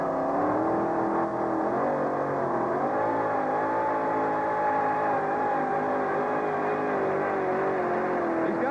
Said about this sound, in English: they know Bob Borba is really going to turn the noise level up here in Anaheim right now.